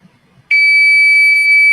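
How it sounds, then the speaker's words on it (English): A piercing programmable electronic buzzer beeps in one continuous high tone, loud and close, starting abruptly after a faint murmur. "It will give a beep"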